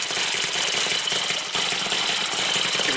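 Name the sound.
miniature Harley-Davidson V-twin Panhead engine running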